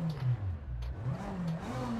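A small rally car engine in EA Sports WRC revs and changes pitch, rising and falling through gears over a low growl, close and steady.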